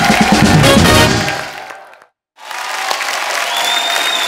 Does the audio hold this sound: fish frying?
no